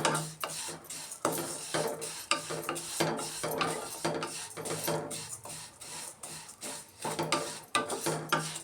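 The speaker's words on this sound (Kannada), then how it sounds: "ಮೀಡಿಯಮ್ ಫ್ಲೇಮ್ ಇಟ್ಕೊಂಡು ಹುರ್ಕೊಬೇಕು ನಾವು. ಕೆಂಪಿಗೆ ಶಾವಿಗೆನ ಹುರ್ಕೊಬೇಕು." Vermicelli roasts in a pan over a medium flame for village-style jaggery payasam, a steady scraping and stirring with repeated rhythmic clinks of a spoon against the pan, close and moderately loud, with no talk.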